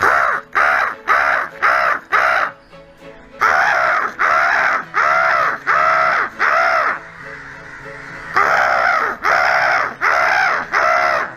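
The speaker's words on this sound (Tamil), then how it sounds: "இப்போ நான் காக்கா கூப்பிட போகிறேன். எல்லாம் வரும்." Crows caw loudly and close by as they gather, in rhythmic runs of four or five harsh calls, with brief pauses between the runs.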